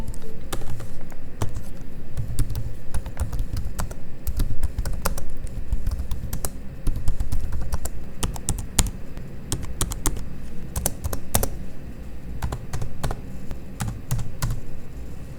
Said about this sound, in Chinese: 以下也提供一段键盘声给大家参考